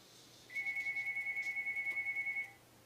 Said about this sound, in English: Sorry about the phone. I'm not gonna answer that right now.